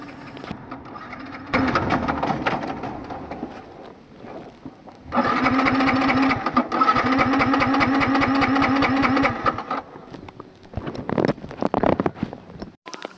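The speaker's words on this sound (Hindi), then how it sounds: "तो अभी देखता हूँ सेल्फ में स्टार्ट होता है या नहीं होता।" Yamaha R15 v3 motorcycle with an empty fuel tank, its electric self-starter cranking in repeated bursts without the engine catching, each attempt a rapid whirring churn, heard alone at close range.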